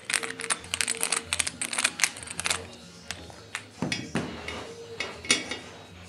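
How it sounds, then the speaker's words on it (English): A screwdriver takes the screws out of an Ecofan AirMax fan during a motor replacement, giving a busy run of small metallic clicks, taps and scraping rattles that come close together and then space out. "So we're going to take our screwdriver and just remove these screws"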